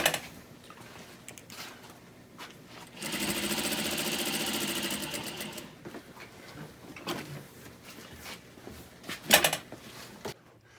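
A sewing machine runs in a steady burst of a few seconds, a loud continuous whirring stitch sound, then stops, leaving quieter mechanical clicks and a short sharp clatter near the end, with no voices.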